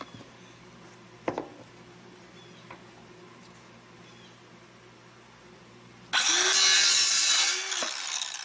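A saw cuts across a plastic pipe cap for a homemade sluice box. After a few faint clicks and handling knocks, there is a loud, close, rasping burst of sawing lasting about two seconds near the end.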